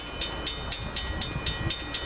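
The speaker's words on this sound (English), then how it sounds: "got a Canadian Pacific train coming down the line" A Canadian Pacific freight train rolls past the Bronte Street railway crossing in Milton, Ontario, a steady close rumble with rhythmic ticking of wheels over rail joints, with no voices.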